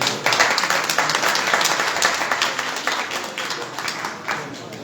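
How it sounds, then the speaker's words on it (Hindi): Audience clapping at a Ram Katha religious gathering in a temple in Bilaspur, a dense, fairly loud patter of many hands continuing throughout. "एक बार जरा ताली बजा दें।"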